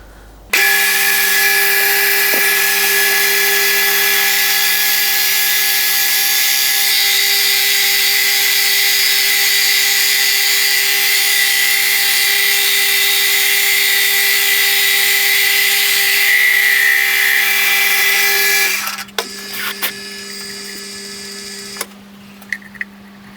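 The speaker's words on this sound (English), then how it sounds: "So we'll drill that hole." A power drill boring a 38mm hole through a display base runs at a steady high whine for about twenty seconds, loud and close, then winds down into quieter mechanical whirring.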